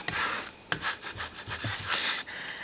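A squeegee burnisher rubs firmly over printable vinyl on a machine, producing close, scratchy rubbing strokes in quick irregular bursts.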